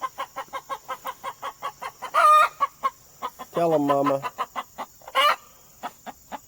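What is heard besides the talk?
mother hen clucking with her chicks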